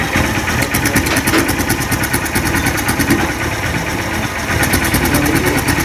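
A Hero Hunk motorcycle idles after a tappet clearance adjustment, a loud, close, steady engine rumble with an even rapid pulse and no breaks throughout.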